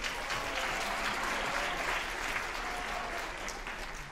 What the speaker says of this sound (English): give another round of applause to the people behind me